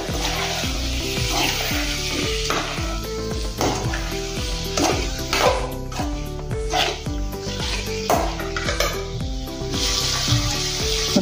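Potatoes go into a hot fried masala for a brinjal, potato and ridge gourd mix vegetable, crackling and sizzling as a spoon scrapes and turns them in bursts, up close over a steady background hum.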